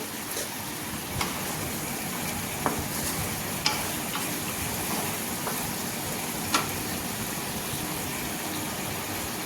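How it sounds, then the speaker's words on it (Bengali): Ground chilli spice paste fries in oil over a medium flame, giving a steady, even sizzle with a few sharp clicks and scrapes as it is stirred, close and alone with no voices. "মশলাটা ওই তেলের মধ্যে দিয়ে দিলাম। দিয়ে এবার আস্তে আস্তে মিডিয়াম আঁচে আস্তে আস্তে মশলা কষাবো।"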